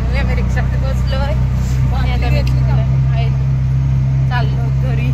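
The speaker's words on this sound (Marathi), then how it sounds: "रिक्षा भेटली आणि फायनली आम्ही रिक्षामध्ये बसलोय" Auto rickshaw ride in traffic, its small engine droning loud and steady throughout, with passing traffic noise around and people chatting over it.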